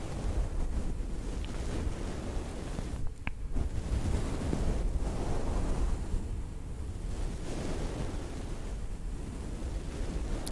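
A steady, breathy ASMR imitation of ocean waves swells and recedes like surf, close and continuous, with no voices.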